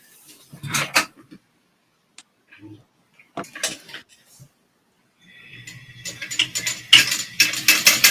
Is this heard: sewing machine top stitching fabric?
yes